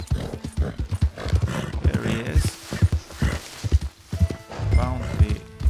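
Horse hooves clip-clop in Red Dead Redemption II, a steady walking rhythm of close thuds running under a man's brief speech and ambient game sound.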